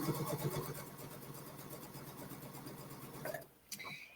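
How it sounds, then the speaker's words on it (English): A Luminaire or Sol sewing machine stitches down quilt binding with a fast steady mechanical whirr that runs close and continuous, then stops abruptly near the end with a brief click. "so I'll sew down just a little further"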